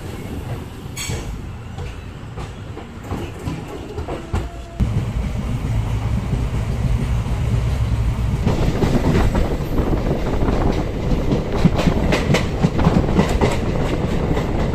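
Ananthapuri Express passenger train running at night, a steady loud rumble of wheels on rail with rhythmic clickety-clack and a sharp jolt, heard from inside a carriage with no talking.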